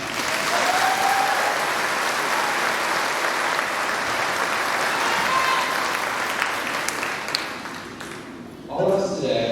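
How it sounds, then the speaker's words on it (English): A crowd at a 2018 high school graduation ceremony applauds the graduating class with loud, sustained clapping that fades near the end, with no speech over it. "can we give them a big round of applause?"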